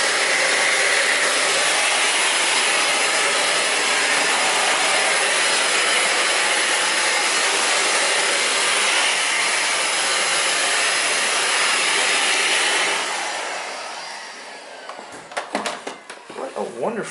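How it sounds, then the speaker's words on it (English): A Miele Complete C3 canister vacuum cleaner runs on maximum bare-floor setting with a loud, steady whine for most of the clip, then cuts off, leaving a few clunks and handling noises. "What a wonderful little vacuum."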